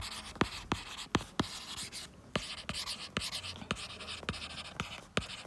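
Pen writing on paper in a quiet room, a series of quick, crisp scratches and taps in an uneven rhythm, close to the microphone, with no talking.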